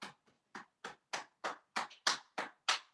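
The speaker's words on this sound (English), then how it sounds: "And then we tap our shoulders a little bit." Hands pat the shoulders in a chair yoga stretch: about ten soft, evenly spaced taps, close and fairly crisp, with no talking over them.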